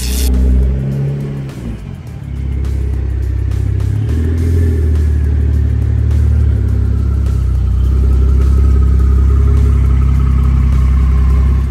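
A modified black Porsche 911 992 Carrera 4S with a Techart body kit runs loud and close, its engine rumbling and revving steadily with rising pitch sweeps over about twelve seconds and no talk.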